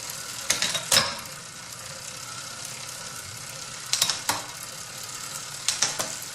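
Shifting gears on a noisy, drying bicycle chain gives scattered metallic clicks and rattles in a few short clusters over steady background hiss, fairly close and moderately loud.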